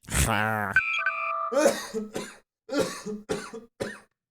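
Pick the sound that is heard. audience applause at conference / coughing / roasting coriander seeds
coughing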